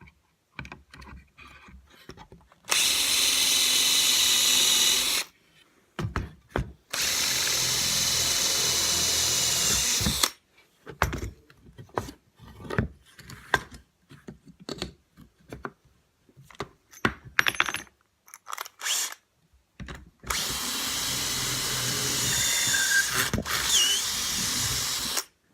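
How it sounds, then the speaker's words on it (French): Power drill boring holes for Lamello Clamex connectors using a drilling jig: three loud, sustained bursts of several seconds each, separated by gaps filled with scattered clicks and handling knocks. "maintenant, je vais percer mes trous sur ce côté-ci"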